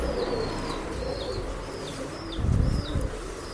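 A male Dhooma pigeon coos in a series of soft repeated calls, with some rustling and a brief flutter of wings near the end, heard close and fairly quiet without any talk.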